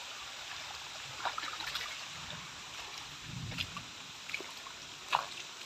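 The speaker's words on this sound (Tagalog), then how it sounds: "Ito, lakas ng agos dito, oh." River water flowing in a strong current, a steady low rush with scattered gurgles and splashes, close and fairly faint, with no talking.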